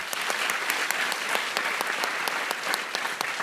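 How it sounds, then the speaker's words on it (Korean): A church congregation bursts into a steady round of clapping, dense and even throughout, with no voices over it. "한번 큰 박수로 축복해 주시기 바랍니다."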